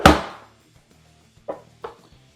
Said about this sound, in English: now we're just going to put it in a dicer and get some nice